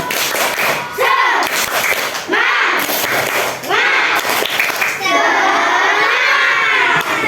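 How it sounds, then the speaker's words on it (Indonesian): Schoolchildren in an Indonesian classroom perform a loud rhythmic clapping chant, shouting in unison over bursts of claps, close and lively throughout. "Oke, kita tepuk semangat dulu ya. Tepuk semangat."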